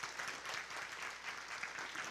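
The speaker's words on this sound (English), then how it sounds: "Let's have a round of applause for them" Applause from a conference audience in Vancouver, a dense, even patter of many hands clapping together, heard from across the room and unbroken throughout.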